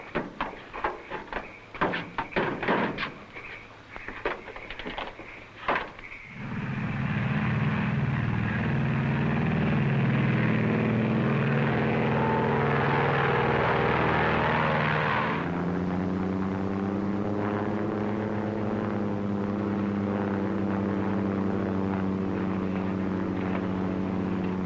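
A propeller airplane engine drones in flight, a loud sustained roar that starts after a few seconds of scattered clattering sounds and shifts pitch midway, heard close with no talk.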